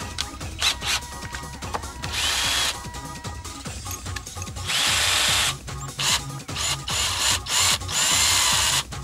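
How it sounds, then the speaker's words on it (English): A power drill whirs in short, repeated bursts, its bit grinding and chattering as it cuts the edge off a jacket snap, with brief stops between runs and no talking. "You literally just use the drill bit, it knocks that edge off and you can pull them apart."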